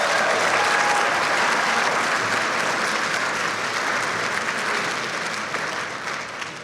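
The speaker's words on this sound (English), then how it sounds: "I want to make sure to give everybody a round of applause for that too." A graduation ceremony audience breaks into sustained applause, a loud, dense roar of many clapping hands that fills the room continuously and tapers a little toward the end, with no voices over it.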